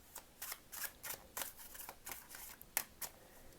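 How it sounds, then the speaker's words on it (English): A tarot card deck is shuffled by hand, giving a rhythmic series of crisp riffling and slapping bursts, close and fairly quiet, repeating roughly every half second. "this one shuffles really, really well"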